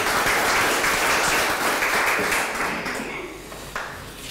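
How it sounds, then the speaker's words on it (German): Loud audience applause at a panel discussion event, a dense wash of clapping that holds strong, then gradually thins and fades toward the end. "Oder guten Applaus."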